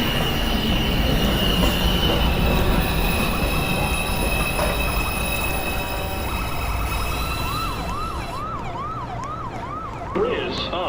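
A Manhattan-bound 2 subway train at 207th Street station, its wheels squealing loudly and steadily over rumbling rail noise, with a rising and falling siren-like wail joining near the end.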